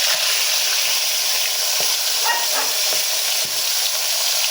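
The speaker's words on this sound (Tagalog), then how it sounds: "Prito muna natin yung bangus mga pre." Steady, loud sizzling of milkfish frying in hot oil, a constant crackling hiss with a few soft clinks of a utensil against the pan.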